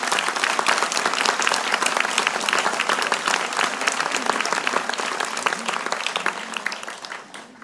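Sustained, dense applause from an audience at a public speech, loud and continuous throughout before tapering slightly at the end.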